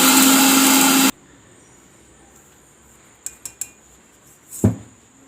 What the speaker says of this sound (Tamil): இது கம்மியாக இருக்கிறதுனால சின்ன ஜாரில் போட்டு நான் அரைச்சிக்கிறேங்க.